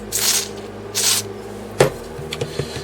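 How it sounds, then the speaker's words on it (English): Two short bursts of hissing cleaner spray close by, used while cleaning an Atari 7800 console, followed by faint clicks and small handling noises. "Spray a little bit more on there"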